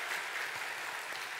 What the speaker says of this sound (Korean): 우리 한번 힘차게 환영의 박수, 감사의 박수 한번 하도록 하겠습니다.